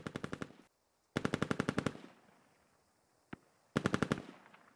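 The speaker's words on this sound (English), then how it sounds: "More shots going out north." Automatic gunfire in the video game Squad comes in three rapid bursts of evenly spaced shots, loud and close, with a single isolated shot between them and no talk.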